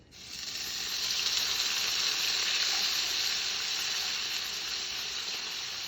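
Braised pork sizzles in avocado oil in a non-stick pan during a stir-fry, rising quickly into a steady, close, hissing sizzle that holds evenly throughout with no talking.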